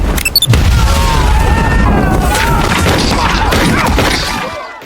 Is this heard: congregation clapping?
no